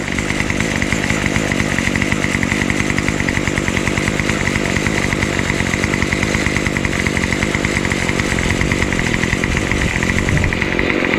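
A Craftsman 71120 27cc two-stroke weed trimmer runs steadily close by, its loud buzzing engine idling and then revving high without a break and with no talk over it.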